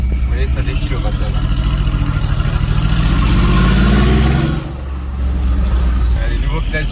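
Supercars including a Porsche 992 GT3 RS driving past on a Monaco street, loud close engine drone building then dipping briefly before picking up again, with someone talking over it.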